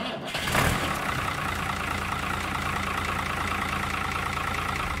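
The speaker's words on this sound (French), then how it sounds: "Donc là c'est un tracteur qui a de l'âge maintenant et qui fait que de la mélangeuse" An aging farm tractor that only runs a feed mixer idles nearby, a steady low diesel rumble with a brief swell near the start and then an even, continuous drone with no talk.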